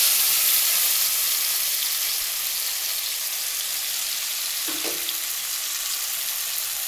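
Mustard, poppy seed and coconut paste sizzling in hot frying oil in a home kitchen: a steady, bright, close hiss throughout, with a brief clink partway through and no talk.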